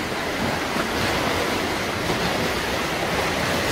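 Sea waves wash steadily against stone pier steps descending into the water at a seaside hotel in Antalya, a continuous broadband surf rush at even loudness with no pauses and no one talking.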